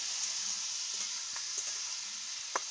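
Vegetables with cauliflower, tomatoes and green chillies sautéing in a pan, a steady soft sizzle with occasional faint clicks of stirring, no voices.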